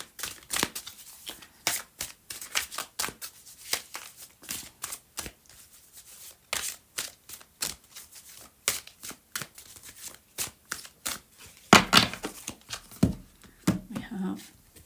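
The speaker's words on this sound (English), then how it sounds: "So I'm going to take 2 cards from the Wisdom of the Oracle deck." A Wisdom of the Oracle card deck is shuffled by hand, giving quick, close riffling and flicking bursts that repeat irregularly, with a louder flurry near the end.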